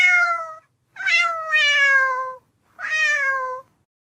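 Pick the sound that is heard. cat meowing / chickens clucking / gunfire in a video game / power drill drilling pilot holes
cat meowing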